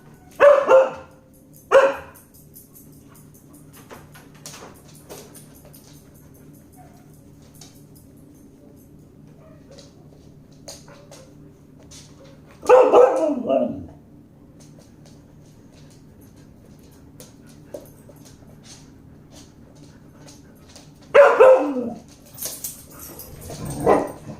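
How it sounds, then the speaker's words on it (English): A dog barks close by in short separate bursts, a quick pair at the start and then two more clusters after long quiet gaps, over a faint steady background hum. "Bella hears herself barking on the fucking stream"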